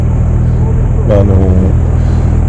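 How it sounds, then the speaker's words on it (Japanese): A motorcycle on the Okutama Shuyu Road in Japan roars past at speed, its engine pitch rising then falling over about a second, against steady road and wind noise. "反対側から来るバイクはですね、 どのバイクも結構ね、飛ばしてきてるんですよね。 通過する時の音でわかると思いますけども"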